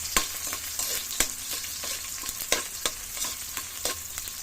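Onions fry with a steady sizzle in a pan for a pork sinigang while a utensil stirs them, giving repeated sharp scrapes and taps against the pan. Nobody speaks.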